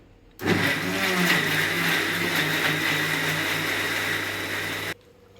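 A kitchen blender grinds coriander leaves and tomato into a fine masala paste for mutton sambar: one loud, steady whirring run of about four and a half seconds that starts and stops abruptly.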